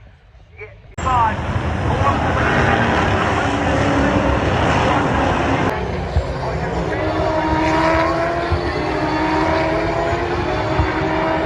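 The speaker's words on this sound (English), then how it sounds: "There's literally just this plane just comes out of nowhere." A propeller airplane drones overhead near the Bathurst 1000 race circuit, a steady, loud engine hum that starts abruptly and holds for the rest of the stretch, with people talking beneath it.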